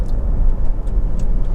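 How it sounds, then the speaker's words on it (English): Honda CR-V 2.2 i-DTEC diesel 4x4 automatic idling after a push-button start, a steady low rumble that stays loud and even throughout with no voices. "Engine starts, push button start on top of the range cars, starts instantly, settles to completely smooth, even idle."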